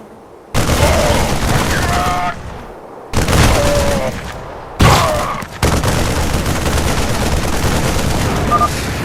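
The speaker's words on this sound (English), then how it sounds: "They're shooting civilians!" Bursts of gunfire in the StarCraft 2 campaign, loud, dense rattling volleys in three or four separate bursts spread over several seconds, with an unbroken barrage of shots filling the second half.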